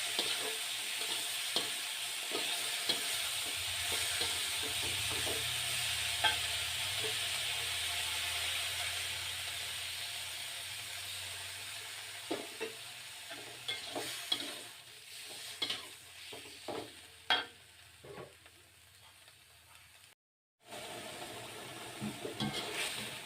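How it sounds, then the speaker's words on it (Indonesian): Broccoli is stir-fried in a pan in a small home kitchen, giving a steady, soft sizzle with scattered clinks and scrapes of stirring, then a brief dropout near the end. "Nah ini tumisan brokolinya dimasukin, lalu kita tumis sampai matang."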